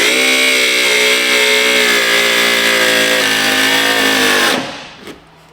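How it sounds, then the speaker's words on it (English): A cordless battery angle grinder trims a small metal bracket and plastic trim on a Duramax truck. It whines loud and steady, close by, for about four and a half seconds, then cuts off and spins down as the battery dies. "I wasn't feeling that angle grinder. I was kind of melting the plastic a little bit."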